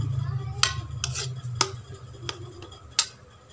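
A spatula scrapes fried egg and onion out of a kadhai, with a few sharp metallic clinks and scrapes at irregular intervals over a low background hum.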